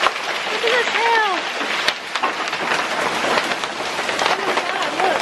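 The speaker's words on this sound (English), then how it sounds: "Look at this hail." Hailstorm with hailstones pelting the ground and surfaces outdoors, a dense continuous clatter like heavy rain, with excited voices and exclamations over it.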